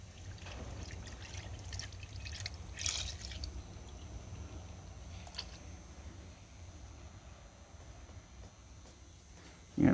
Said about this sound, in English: Yep, she's dripping.